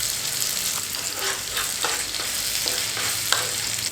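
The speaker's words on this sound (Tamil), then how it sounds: "இந்த சட்னி வந்து ரொம்ப நேரம் நம்ம வதக்க வேணாம், ஒரு 2 நிமிஷம் நம்ம வதக்கினாலே போதும்" Ground garlic chutney sautés in a pan for idli and dosa, a dense, even crackling sizzle with repeated soft scrapes of a spoon against the pan, close and steady for the whole stretch.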